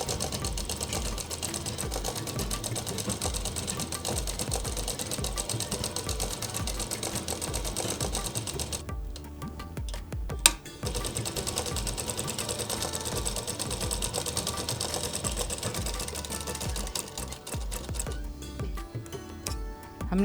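A tailor's sewing machine double-stitches a Patiala kurti with a continuous rapid ticking whir, briefly stopping twice before resuming, close and steady.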